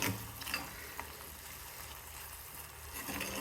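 Onion and ripe tomatoes sautéing in a pan for a drumstick masala curry, a steady close sizzle with faint stirring scrapes and no talk.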